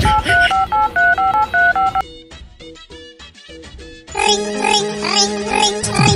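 Touch-tone telephone dialing beeps, a quick run of regular evenly spaced tones, then sparser beeps followed by a louder ringing phone tone, all clear and close.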